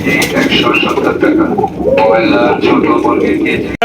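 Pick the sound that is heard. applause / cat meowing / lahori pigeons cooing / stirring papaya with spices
lahori pigeons cooing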